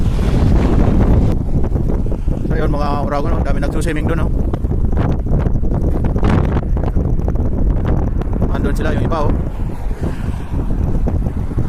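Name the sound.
strong wind on microphone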